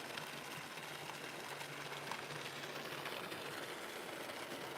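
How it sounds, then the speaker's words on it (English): A swimming pool pump draws water through a vacuum head and pushes it through a filter back into a green, algae-filled pool. It gives a faint, steady mechanical hum with no talking. "a pump that is basically circulating the water from our vacuum head through our pump, through the filter, back into the pool."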